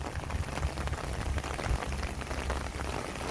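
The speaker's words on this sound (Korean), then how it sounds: "빗방울 떨어지는 거 봐서는 소리도 많이 크죠" Heavy rain drumming steadily on a tent at a campground, a dense, continuous patter with no voices.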